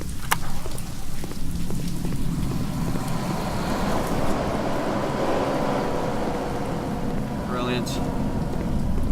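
Rain falling in the video game Signal Simulator, a steady broadband wash of drops throughout, with low rumbling underneath and a few brief sharper ticks.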